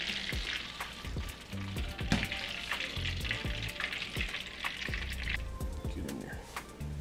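Flounder and trout fry in very hot oil, giving a continuous crackling sizzle with scattered pops and occasional clinks of utensils, close up throughout.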